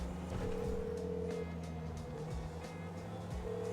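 In GTA V, Michael's phone plays a call tone as he rings Lester, repeated steady electronic beeps over a low in-game vehicle hum.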